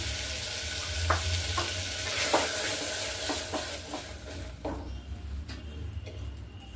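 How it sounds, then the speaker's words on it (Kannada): Ground masala sizzles and fries in a hot pan while making kalu gojju, with steady crackling and a few scraping stirs, close and moderately loud. "ರುಬ್ಬಿಟ್ಟಿರೋಂಥ ಮಸಾಲೆ ಹಾಕ್ಕೊತೀನಿ"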